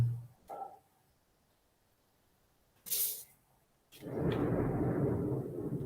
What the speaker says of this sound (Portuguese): o trovão na terrinha da laranja